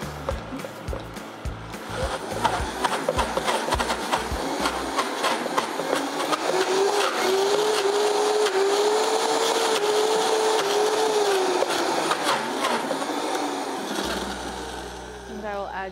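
A blender churns soaked cashews with olive oil into a creamy dip, a loud continuous whir that starts with a few short pulses, then rises into a sustained whine before cutting off near the end.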